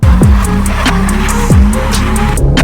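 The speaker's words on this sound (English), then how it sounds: "That's the longest drift." A B58-swapped BMW E46 Touring drifts on a cold day with tires squealing loudly under a sustained engine roar, the squeal pitch swooping repeatedly across a couple of seconds, close and intense.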